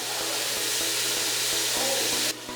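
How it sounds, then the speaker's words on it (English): Minced garlic sizzling in a pan with sauteed tri-peppers: a steady, close hiss of frying with a faint rhythmic ticking underneath, cutting off abruptly near the end. "Add some minced garlic in."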